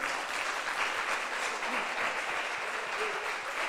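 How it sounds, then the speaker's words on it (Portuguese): A church congregation applauding during a worship service, a sustained, even round of many hands clapping together at a moderate distance, filling the whole span without talk over it. "Vamos aplaudir o nome do Senhor Jesus."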